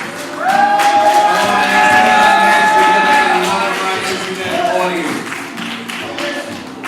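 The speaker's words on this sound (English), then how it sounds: "We want to take this time to welcome our internet audience with a loud round of applause" A loud, sustained round of applause and cheering from a church congregation welcoming listeners, with dense clapping that swells quickly, holds steady, then gradually thins out.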